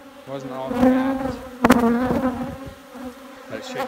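Insect buzzing with a steady harmonic drone, swelling and fading over a few seconds, with a sharp click partway through.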